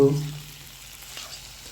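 Prawns are dropped into a hot pan for a spicy prawn bhuna, a brief loud burst at the start settling into a faint, quiet sizzle that fades out.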